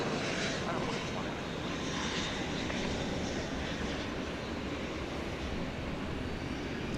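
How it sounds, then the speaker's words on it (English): A FedEx Boeing 757 airliner passing overhead at night near DFW Airport, a steady broad engine roar that stays loud and even the whole time. "757 is near me."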